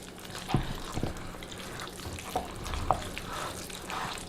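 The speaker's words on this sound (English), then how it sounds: "we are just going to town mixing it all together" Soft, wet stirring and squelching as tater tot casserole ingredients are mixed in a bowl, with a few faint clicks of the utensil, quiet and close.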